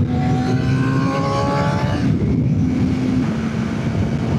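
Suzuki GSX-R600 sport bike engine revving hard at speed from the rider's position, a loud rising whine that shifts pitch mid-run, with heavy wind roar throughout and no talk.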